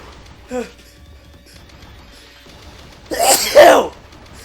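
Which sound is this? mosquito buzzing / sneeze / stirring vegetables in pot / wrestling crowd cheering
sneeze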